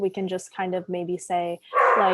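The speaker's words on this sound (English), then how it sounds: "sorry, that's my dog" A pet dog barks at home during an online meeting, with several quick, loud, close barks in a burst and a yelp at the end, mixed with a person talking.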